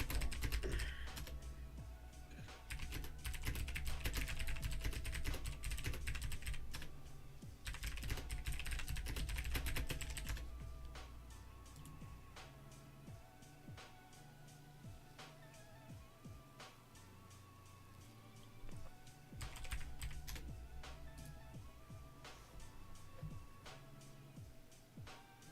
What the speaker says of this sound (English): Start typing up this review.